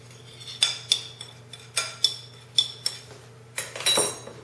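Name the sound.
mixing honey spicy chicken wing sauce in a bowl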